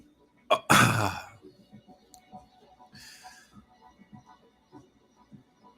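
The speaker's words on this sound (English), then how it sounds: "I'm just coughing." A person coughs and clears their throat close to the microphone, one short harsh burst followed by a louder raspy one, then faint low murmuring noises and a brief breathy hiss.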